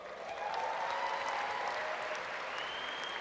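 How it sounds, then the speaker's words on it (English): An audience at a training session bursts into steady, dense applause that fills the room throughout. "Can we give all of them a huge round of applause?"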